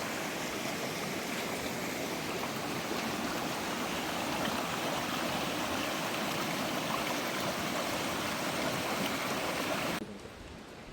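Water runs through a village stream blocked by a hillside landslide beside a collapsed road, a continuous close rushing babble that holds steady for about ten seconds before dropping away sharply.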